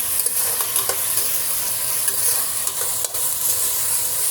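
Onions frying toward golden brown for a vegetable biryani, a loud, close, continuous sizzle with repeated scraping stirs and light utensil taps against the pan.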